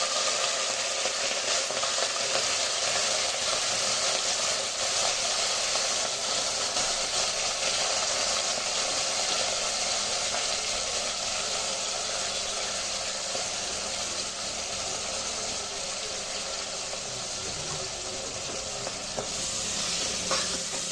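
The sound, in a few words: fenugreek leaves and onion frying in oil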